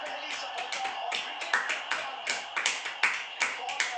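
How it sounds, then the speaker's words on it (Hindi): Hand clapping at home during a family gathering before watching a cricket match, a series of uneven sharp claps mixed with voices talking in the room. "ताली बजा।"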